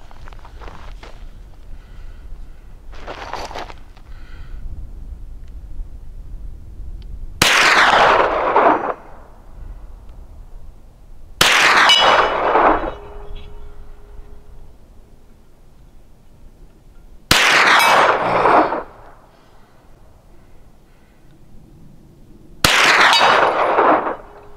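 Four loud 9mm full-metal-jacket shots ring out one by one at a steel plate target on an outdoor hillside, each sharp crack trailing off in a short echo, with a few fainter knocks between them.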